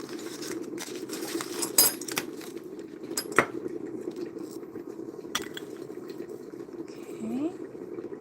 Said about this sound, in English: Water is just about finished boiling here.